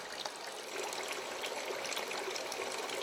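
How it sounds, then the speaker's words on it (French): Hydrosol from an essential oil still trickling steadily into a Florentine flask at a Corsican distillery, a continuous soft watery flow with no voices. "Donc là, on a l'hydrolat qui continue à couler"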